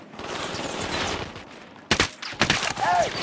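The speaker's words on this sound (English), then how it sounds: "We're opening fire on these shitheads." Gunfire in the game Ghost Recon Wildlands, a few sharp bursts of shots following a stretch of murmured voices and background ambience, with a brief mechanical ping near the end.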